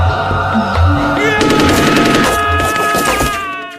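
Gunfire in the Korean horror film R-Point comes as a loud, rapid burst of automatic shots over a tense, droning score, sustained for a couple of seconds and then fading.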